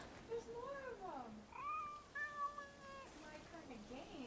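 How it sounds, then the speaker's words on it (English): Cats meow in Assassin's Creed Origins, several short rising and falling mews in quick succession, close and fairly soft. "Hello, kitties."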